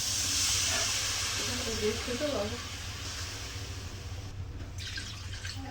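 Water poured onto potatoes frying in spices sets off a loud, hissing, steaming sizzle that gradually settles to a softer bubbling hiss while someone talks.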